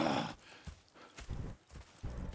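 Horse hooves clip-clop softly in Red Dead Redemption 2, a faint, uneven series of muffled steps at a walking pace with no talk over them.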